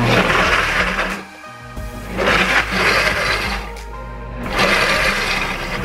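A kitchen blender pulsing frozen Dole Whip ingredients, loud motor bursts that cut out briefly and restart in three or four pulses, the blades grinding and rattling close by with no talk.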